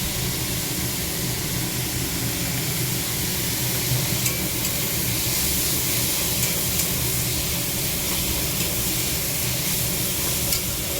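Sliced onions with salt fry in a pan, giving a loud, steady sizzle that holds from start to finish with faint crackling pops and no voices.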